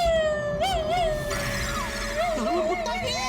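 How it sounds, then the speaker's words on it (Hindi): A cat meows several times inside a house, short wavering cries over a steady, high, siren-like tone and background noise. "घर में बिल्ली आ गई है।"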